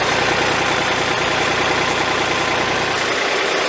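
A tractor engine idles close by with a loud, steady, throbbing rumble that holds unchanged for the whole few seconds, with no voices.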